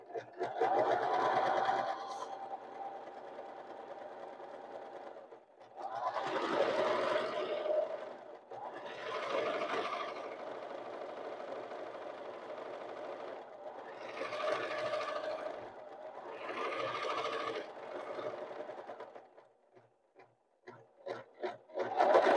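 Sewing machine stitching a standard pillowcase in steady bursts of whirring, pausing briefly between runs, close and moderately loud with no talk.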